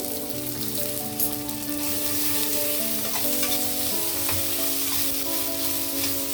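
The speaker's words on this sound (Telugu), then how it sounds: "ఇప్పుడు కొద్దిగా అల్లం వెల్లుల్లి పేస్ట్ వేస్తున్నానండి ఒక స్పూను" Ginger garlic paste sizzling in hot oil in a pan with carrot and green chillies, a dense continuous frying hiss with faint stirring, close and steady throughout.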